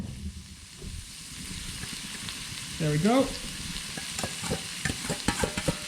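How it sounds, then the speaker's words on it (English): Onions sizzle steadily in a hot pan for a Chinese vegetable stir fry, with a soft crackling hiss, and a voice speaks briefly partway through. "Add the onions on the hot pan. Nice sizzling sound, make sure you hear that."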